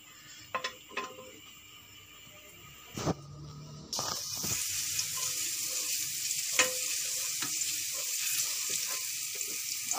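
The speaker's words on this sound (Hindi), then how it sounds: "और लहसुन डाल देंगे जो थोड़ा सा हमने लिया है।" Garlic hitting hot ghee in a pan, a soft clink at first, then a steady bright sizzle that rises suddenly and keeps frying close by, with no talking.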